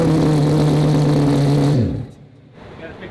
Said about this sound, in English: The belt is rattling like it used to